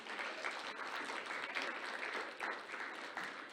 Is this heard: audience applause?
yes